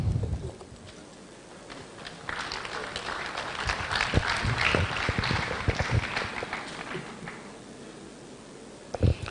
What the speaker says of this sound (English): Please, another round of applause for our very own Dr. Sede.